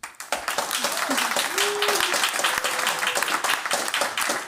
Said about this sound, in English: Can I have a warm round of applause for them?